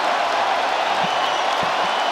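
Capacity crowd roaring for Charles Oliveira in a UFC arena in Vancouver, a loud, steady wash of cheering noise with a few faint low thumps inside it, continuous from start to finish.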